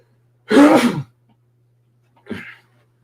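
A loud, explosive sneeze bursts out up close, followed a second later by a shorter, softer sneeze or sniff in an otherwise quiet room.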